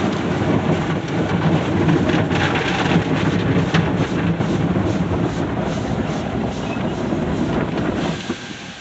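Inside an Autec soft-touch express car wash in New Holland, a loud, continuous rumble of spraying water and scrubbing brushes washes over a car, steady throughout before easing slightly at the end.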